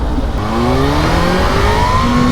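A Kawasaki ZH2 motorcycle accelerating hard into a wheelie, engine note climbing steadily in pitch through the gear, loud and close.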